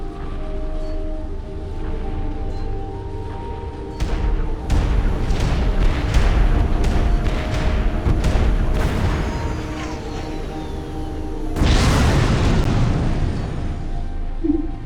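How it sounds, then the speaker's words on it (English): Booming explosions from an enemy bomber raid in the real-time strategy game Supreme Commander: Forged Alliance, with a steady run of blasts and crackling bursts from about four seconds in and a louder burst near twelve seconds over a continuous game soundscape. "The enemy is attacking with bombers."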